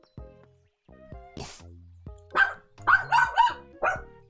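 A dog barks repeatedly at close range, a run of sharp, loud barks with short pauses, some coming in quick clusters, with no talk over them.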